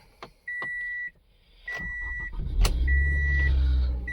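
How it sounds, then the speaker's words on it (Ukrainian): A 2017 Toyota Camry with a 2.5-liter petrol/gas engine is started with a key: a few chimes and beeps, a short cranking burst, then the engine catches and settles into a steady, even idle. "Заводиться без проблем, працює рівно"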